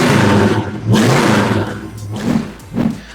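A 1970 Plymouth GTX with a 440 cubic-inch V8 revs in several loud, close bursts, its exhaust note rising and falling with short gaps between blips.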